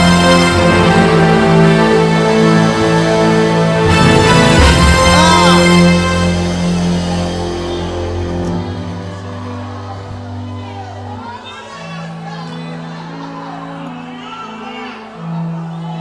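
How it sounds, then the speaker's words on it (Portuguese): A church congregation applauding and shouting, loud crowd cheers and whoops with mixed voices and music, then fading to a quieter murmur. "Quem pode aplaudir, gritar e dar um pulo para cima?"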